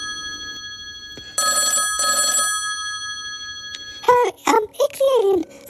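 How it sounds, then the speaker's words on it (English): A telephone rings twice in short electronic bursts, then a voice speaks up close. "I really ought to ring Ick."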